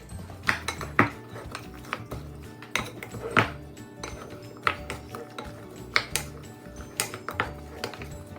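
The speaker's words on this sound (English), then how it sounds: "mix the whole thing up until all of the vegetables are coated" Vegetables tossed with onion powder and seasonings in a bowl, a spoon scraping and clinking against the sides in an irregular run of sharp knocks for several seconds, close and fairly loud with no talking.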